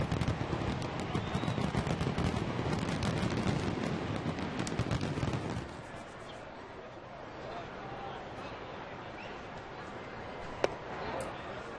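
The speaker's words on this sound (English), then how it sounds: "Those fireworks are unbelievable." Post-game fireworks burst in dense, rapid crackling volleys over an Angels baseball stadium, loud for several seconds before dropping away. A broadcast announcer talks over them.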